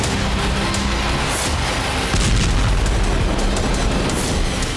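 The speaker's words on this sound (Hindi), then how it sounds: "देखिए कैसे जलती हुई रिफाइनरी पर दूसरा ड्रोन गिरता है और एक जोरदार धमाके के साथ आग और धुआं नजर आने लगता है।" A drone strikes a burning oil refinery, setting off a heavy, rumbling explosion that fills the whole clip with a dense, continuous roar and blast noise. The sound swells partway through and has no voices.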